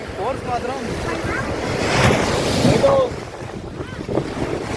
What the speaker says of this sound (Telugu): grey water beach in Rameshwar